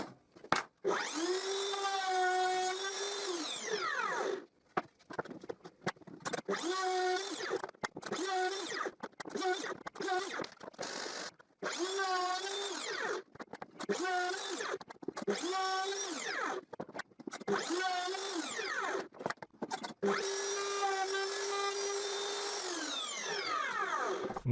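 A power drill bores through thick wood strips for a shed window frame, with repeated bursts of rising and falling motor whine as the bit bites and stops, loud and close, with no talking.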